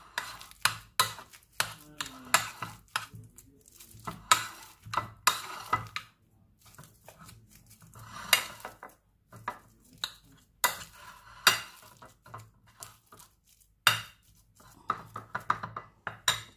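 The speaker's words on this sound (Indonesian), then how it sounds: "Ini kan panas kentangnya tuh, jadi kita aduk." A spoon stirs hot potatoes in a pan for a butifarras parmentier, giving close, irregular clinks and scrapes against the metal in short bursts with brief pauses.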